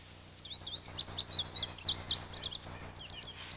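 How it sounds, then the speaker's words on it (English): A bunting sings in a garden on a hot summer afternoon, a lazy run of high, thin chirping notes repeating steadily for several seconds at moderate distance, with no talk. "Hot summer afternoons in the bird garden are made lovely by the lazy rhythm of either bunting's song."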